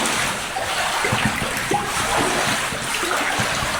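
Water pours and splashes through gaps into a flooded concrete drain tunnel, a steady close wash of rushing, spattering flow that fills the space without pause.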